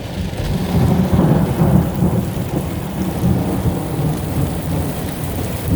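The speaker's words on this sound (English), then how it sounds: "Lightning's coming a lot more active." Heavy rain pours steadily from a weak supercell thunderstorm while low thunder rolls and rumbles close overhead, loud and continuous with no voices.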